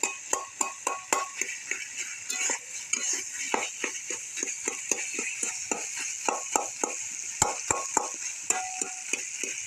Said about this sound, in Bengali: এই যে আলু কাটে এসে খুব সুন্দর করে ভেজে নিতে হবে